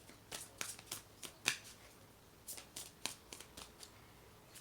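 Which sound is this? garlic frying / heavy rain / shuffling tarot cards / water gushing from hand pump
shuffling tarot cards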